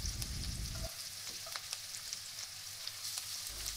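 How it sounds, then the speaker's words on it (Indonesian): Chopped onion and garlic sizzle and fry in a pan for a vegetable chop suey, a steady crackling hiss with occasional stirring clicks, close and moderately loud without talk. "Tumis lagi sampai harum dan bawang agak kecoklatan pinggirnya."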